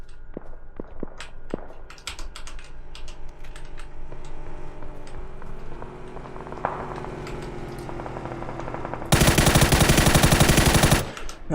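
Rapid bursts of automatic gunfire from a gun in PUBG, scattered shots early on, then a dense loud sustained burst near the end, with faint clicking of keys in between.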